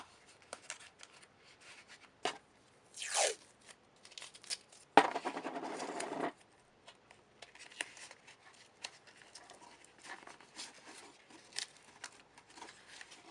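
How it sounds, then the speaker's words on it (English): Adhesive tape rips in two short bursts as it is pulled from the roll to join two sides of a paper infinity-tube folding cube, with quiet rustling and handling noises between. "I'll also tape the 2 sides together"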